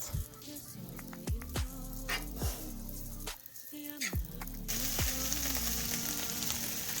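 A tablespoon of butter hits a hot pan on medium heat and a bright, steady sizzle rises in the last seconds, after a stretch of softer tonal sounds.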